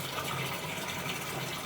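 Water pouring into an aquarium tank during a water change, a steady, continuous rushing and splashing with no talking.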